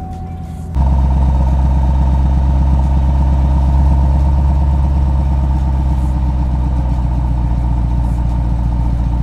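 A naturally aspirated Camaro fires up on a cold start in cold weather and settles straight into a loud, steady idle. The engine rumbles deep and even, close to the microphone, with no voices.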